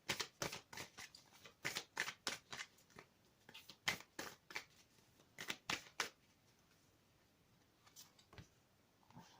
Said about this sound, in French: Je vais tirer une deuxième carte de l'oracle des chamans mystiques.